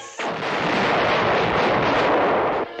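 A cartoon sedan chair strapped with rockets blows up in one long, loud roaring blast, thick and sustained for nearly three seconds before it cuts off abruptly.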